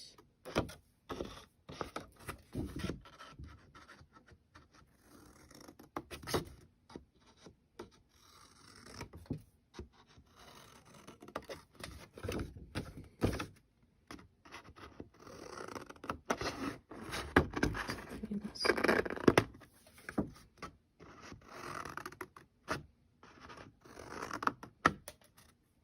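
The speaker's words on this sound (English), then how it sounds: "you are going to cut apart these flaps and miter their corners." Paper box flaps for a two-drawer box are cut apart in a long run of intermittent soft snipping, scraping and rustling sounds, close and fairly quiet, with uneven bursts and pauses.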